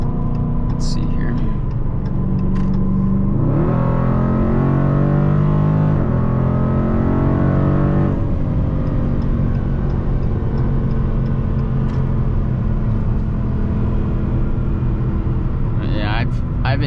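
A 2020 Dodge Challenger Scat Pack Widebody with a muffler-shop-fabricated H-pipe exhaust idles with a loud, deep rumble, then revs up and holds several times before settling back, close by, with a voice talking over it.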